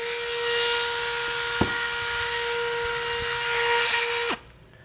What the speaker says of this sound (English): So I'll just carefully use my Dremel here.